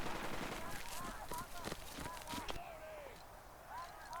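Soldiers exchange scattered gunfire in the Casablanca mission of the strategy game Burden of Command, with sharp shots popping irregularly among whistling tones and other game sounds.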